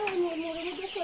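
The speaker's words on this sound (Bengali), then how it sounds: "এখানে কতটি মুরগি আছে এই রুমে?" Golden Sonali chickens cluck and call in a crowded farm room holding about 1,400 birds, a dense overlapping chorus of near, high, wavering clucks with no talk.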